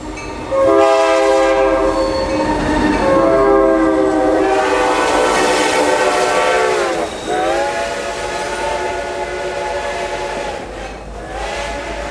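Reading & Northern 2102 steam train with diesel locomotives on the point passing on the mainline: a loud, close multi-tone horn blasts for several seconds, dips, then sounds again over heavy rumbling rail noise, with no talk.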